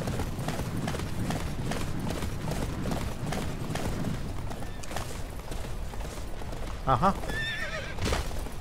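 Horse neighing and galloping hooves in the Attack on Titan video game, a steady clip-clop running throughout with a sharp whinny near the end, while a person briefly murmurs over it.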